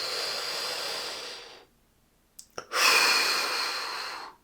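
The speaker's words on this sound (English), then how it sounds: "breathing in deeply through your nose and out through your mouth, you feel 100 times better" Deep breathing, in through the nose and out through the mouth: a long airy exhale, a brief silent pause with small sniffs, then another strong, close, hissing breath that slowly fades.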